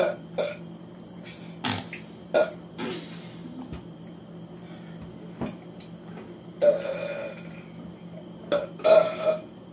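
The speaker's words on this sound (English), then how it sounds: "Burping challenge by yourself." Several short burps come out loud and close at irregular intervals, separated by quieter gaps filled with faint clicks and a low background hum.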